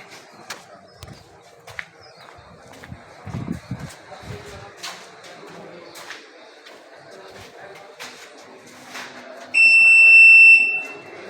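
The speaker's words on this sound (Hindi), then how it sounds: "ये अलार्म हुआ, इतने बज के इतने मिनट में हुआ है" RFID file security system alarm, a sharp steady electronic beep sounding loud for about a second near the end, after quiet room noise with scattered knocks and shuffling, people talking in the background.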